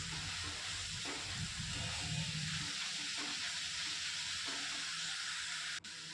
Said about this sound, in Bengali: এইভাবে পুরো বিটটা এর মধ্যে দিয়ে আমি এটাকে খুন্তি দিয়ে নেড়ে নেড়ে বেশ কিছুটা সময় এটাকে কষিয়ে নেব।